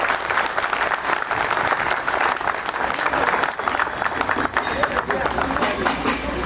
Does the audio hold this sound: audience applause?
yes